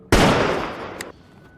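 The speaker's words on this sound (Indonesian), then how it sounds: "Ia pun menembak kaki Harlan lalu menyuruhnya berjalan." Loud, close gunshot blast in a film, a sharp sudden crack with a long echoing tail and a second fainter report near the end.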